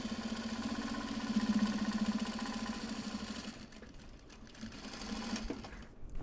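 A sewing machine stitches a turned seam on a project bag made from Japanese fabric, running steadily and close for about three and a half seconds before dropping to a quieter hum with light handling noises.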